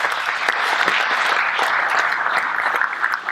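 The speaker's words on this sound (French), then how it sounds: "Un grand applaudissement" Audience applause at a Synology NAS storage and virtualization conference, a dense, steady clapping from a crowd held at even loudness for a few seconds, with no voices over it.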